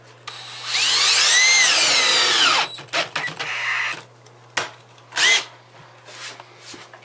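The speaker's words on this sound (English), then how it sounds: "get your screw as straight as possible, go into the center" A power drill drives a screw into Hardibacker cement board, one sustained whirring burst that rises in pitch as it bites, then stops and is followed by several short clicks, scrapes and brief taps close by.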